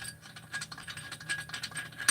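A ratchet wrench clicks rapidly while undoing the flywheel nut on a Solo 665 chainsaw engine, a quick, close, fairly quiet metallic rattle of pawl ticks.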